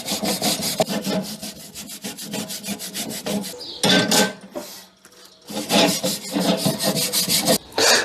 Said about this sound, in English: after some scrubbing, you see most of the rust is gone, nicely cleaned